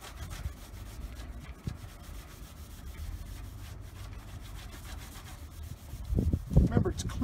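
A cloth works cleaner across car paint in a close, continuous rubbing swish, with heavier scuffing strokes toward the end.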